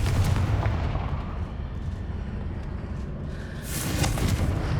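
Confringo spell blasts in Hogwarts Legacy, with a continuous loud, booming roar of fiery explosions, heavy low rumble, and a fresh burst near the end.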